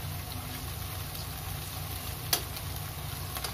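Onions sizzling steadily in hot oil in a pan as they crisp over high heat, a soft continuous fry with a brief clink partway through.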